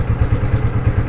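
A motorcycle engine idles with a steady, low, pulsing chug, close and loud, with no voices.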